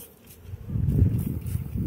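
Honey bees hum in a low, steady drone as they are shaken off hive frames during a chalkbrood treatment, swelling louder midway and continuing close by.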